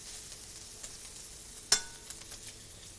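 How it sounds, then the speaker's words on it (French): Calamari sears quietly in a pan, a faint steady sizzle with one sharp utensil tap partway through. "je le tourne le calamar qu'il y a en cuisson colorée"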